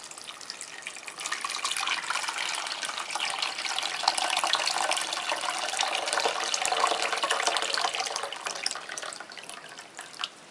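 Water pours steadily into a cooking pot for Korean dried anchovy broth, seven cups in all, a continuous close splashing rush without speech.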